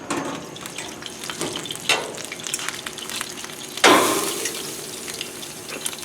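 Steak on a hot grill sizzles in a steady hiss, with a sharp, loud burst of searing near the middle that slowly fades.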